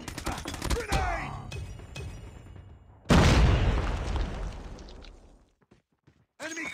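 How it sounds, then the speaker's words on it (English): A grenade explodes in the shooter game Call of Duty Mobile: a sudden loud blast mid-way, following earlier clattering gunfire-like shots. The blast decays into quiet before another burst starts at the end. "Grenade!"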